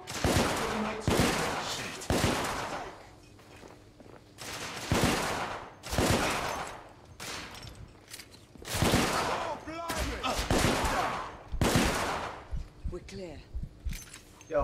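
Gunfire in The Order: 1886, a video game, bursts out in repeated loud volleys and single shots across the stretch, close and sharp, with a voice speaking between some of the bursts.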